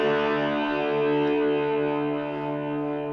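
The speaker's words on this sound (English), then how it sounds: "The video is using a Shure MV88 Plus mic to mic up to my Marshall amp to hear the guitar." Distorted electric guitar played through a Marshall amp and picked up by a Shure MV88 Plus mic, a steady sustained chord with rich harmonics ringing continuously and loudly for about three seconds with no talking.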